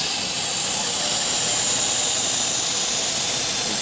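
A China-made CNC router runs under manual control, giving a steady, loud broadband hiss and whir that holds even and unbroken throughout with no talking.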